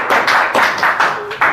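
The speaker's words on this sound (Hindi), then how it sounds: "अब ताली बजाओ" Several sharp hand claps in a steady rhythm, about one every quarter second, close and loud with no talking.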